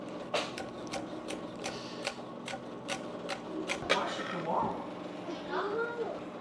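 A knife chopping green onions on a board, a quick series of sharp evenly spaced taps, close and fairly quiet, with talking over it.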